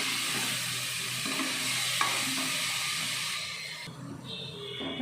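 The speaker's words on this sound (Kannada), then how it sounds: "ಟೊಮೊಟೊ ಚೆನ್ನಾಗಿ ಫ್ರೈ ಆದಮೇಲೆ ತರಕಾರಿ ಹಾಕಿ ಚೆನ್ನಾಗಿ ಫ್ರೈ ಮಾಡಿ." Vegetables frying with tomato in a pan for palak sambar, a spinach and lentil curry: a continuous close sizzle with stirring scrapes throughout, the hiss dropping away near the end.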